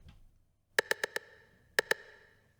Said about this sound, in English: it's just a 808 rim shot, a little bit of reverb on it, cut off the low end.